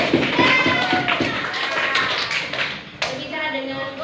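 A high school class of students claps hands in a classroom, a brief burst of uneven clapping mixed with voices and taps, then fading as a voice speaks near the end.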